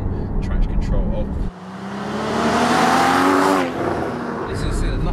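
A Porsche Cayman GT4's flat-six engine with the sports exhaust open and traction control off revs hard from close by, its pitch climbing steadily before falling away, with bursts of talk heard around it.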